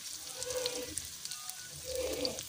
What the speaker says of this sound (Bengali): সেই কারণে একটু সময় লেগে যাচ্ছে আলুটা ভাজতে।